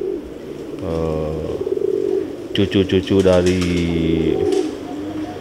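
Young bred pigeons from a breeding stock coo in deep, rhythmic bubbling phrases, close and clear, while someone talks over them.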